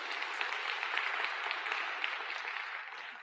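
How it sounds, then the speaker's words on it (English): An audience at a national finals competition applauds steadily, the claps dense and moderately distant, the sound sustained without talk and fading slightly toward the end. "Clap a little louder next time so she can hear you in Hawaii."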